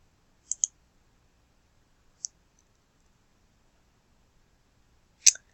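Four sharp, isolated computer mouse clicks in a quiet room: a quick double click near the start, a single click about two seconds later, and a louder final click near the end.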